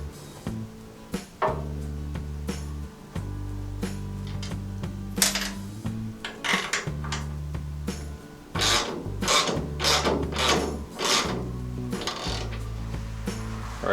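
Bolt being tightened on a Jeep J10 tail light, with metallic clicks and scraping of a tool working alongside a low steady hum, repeated in short irregular bursts.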